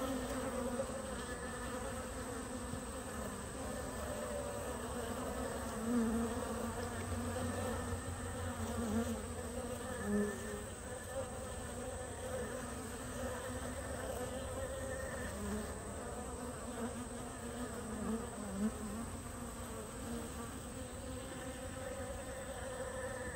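Honey bees in a bee yard, a steady close buzzing drone that continues unbroken for the whole stretch, with no voices.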